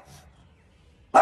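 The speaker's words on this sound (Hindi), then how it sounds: "ये देखो कितना भौंक रहा है" A dog barks once, sharp and close, near the end, after a faint earlier yelp in a quiet indoor setting.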